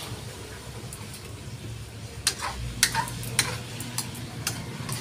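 A spoon stirs a pot of soup with banana and potatoes, giving several light clinks and scrapes against the pot over a low steady background, fairly faint.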